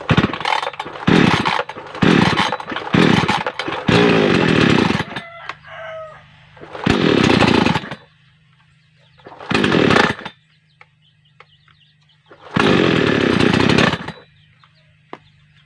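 A chainsaw with a knocking cylinder head is choked and started, firing in loud repeated bursts of revving that cut out, leaving short idle gaps with roosters crowing in the background.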